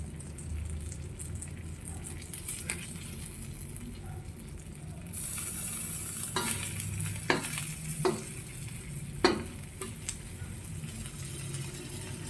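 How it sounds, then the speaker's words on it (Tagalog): Rice, red and brown, stir-fried in oil left from frying dried fish, egg and tuyo, with a steady sizzle and scraping stirs of a spatula in the pan, a few sharper clatters near the end. "Diyan na tayo magsasangag sa pinagpretuhan natin ng daing, itlog, tsaka ng tuyo."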